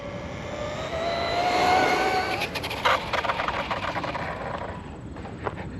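An Arrma Quake 2WD RC car runs at full throttle, a high whining motor that rises and falls as it passes, with brief clattering bumps and rattles toward the end.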